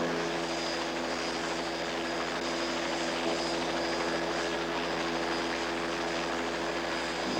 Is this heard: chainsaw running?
no